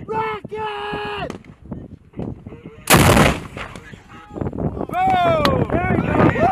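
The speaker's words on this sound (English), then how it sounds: "Rocket!" An FGM-148 Javelin rocket is launched by Marines, producing a sudden loud, broadband blast of about a second. Shouting voices and a blaring horn-like tone are heard before it, with more shouting and noise after.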